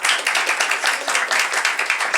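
Audience at a healthcare conference awards ceremony clapping in a steady, fairly loud burst of applause that fills the room without pause for about two seconds.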